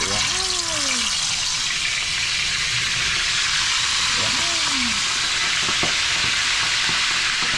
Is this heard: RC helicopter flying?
no